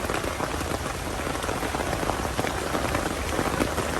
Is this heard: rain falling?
yes